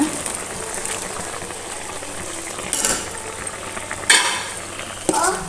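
Ground masala stirred into cooked oysters in a pan for Kundapur-style oyster masala, a steady soft scraping and wet stirring with a few louder clatters of spoon against the pan, and no talk.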